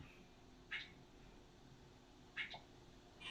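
A Lucky Cat in the Super Auto Pets video game gives three short, clean meows spread across a quiet game background, each one brief and fairly faint.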